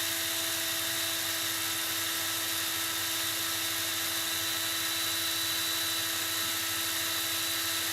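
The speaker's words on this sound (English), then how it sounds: "I'm literally not doing anything but holding my thumb on the drill." A small brushed drill motor whines steadily at high pitch, constant and close, with no pauses or change in speed throughout.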